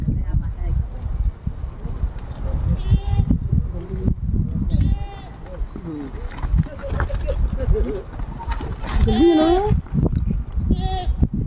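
Goats bleat in several short, wavering calls over steady outdoor rumble, with people talking close by throughout.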